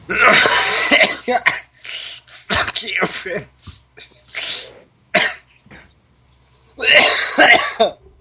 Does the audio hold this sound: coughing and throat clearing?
yes